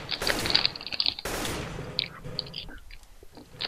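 Gunfire in the video game Garry's Mod Trouble in Terrorist Town: two loud bursts of rapid shots, the second cutting off abruptly, followed by a few scattered fainter shots, with quiet voices talking underneath.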